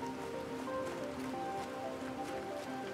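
Steady hiss of rain falling in the video game The Planet Crafter, a continuous even wash of noise with faint tonal game ambience underneath, no voices.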